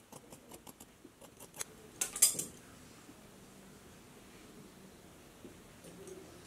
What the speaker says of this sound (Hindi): यहाँ से थोड़ा सा तिरछा मार्क लगाएंगे और तिरछी कटिंग कर लेंगे